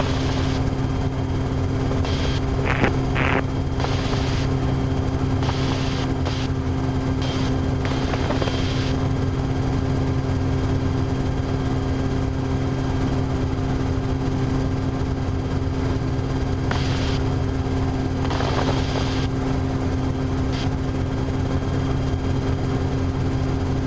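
Steady, continuous engine and propeller drone of a Cessna Skyhawk single-engine plane in flight, loud and unbroken throughout with a constant low hum and a few brief higher bursts, no talking.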